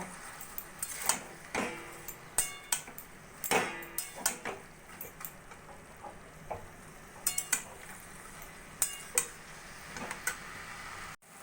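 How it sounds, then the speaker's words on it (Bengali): Red spinach being tossed with salt and turmeric in a pan, with repeated close scraping and clinking strokes of a spatula against the metal over a soft sizzle, in an irregular stirring rhythm. "এবার ভালো করে আমি শাকের সঙ্গে মিশিয়ে নেব"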